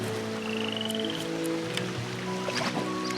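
Frogs croak in Hero of the Kingdom III, overlapping throaty calls and chirps over a low, steady ambient bed, with a few rising trills standing out.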